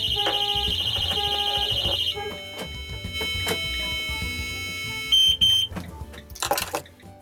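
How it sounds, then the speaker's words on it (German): A Thitronik vehicle alarm sounds a steady high-pitched tone that beeps continuously, stops partway, then sharp electronic chirps and bursts sound, fairly loud and close. "Dann hört ihr, sofort geht der Alarm los."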